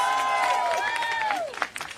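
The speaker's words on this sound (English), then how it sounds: "Give her another round of applause, please." Applause for Amber at a Mother's Day picnic rally, crowd clapping with high cheers and whoops rising over it, fading out near the end.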